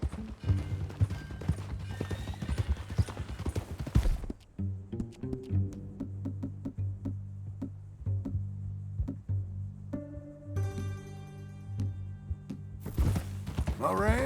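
Horse hooves clop in a steady rhythm as a rider travels in Red Dead Redemption 2, close and clear, with musical score and ambient game sounds around them.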